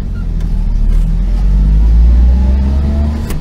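A car engine runs with a steady low rumble and mild revving as the vehicle turns around near Korangi Fish Harbour, close and continuous throughout with no talk over it.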